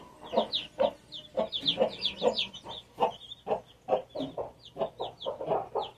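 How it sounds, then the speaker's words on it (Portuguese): Hens clucking in a backyard coop with nesting boxes, a steady run of short, close, overlapping clucks and squawks with no talking. "As galinhas tá aqui."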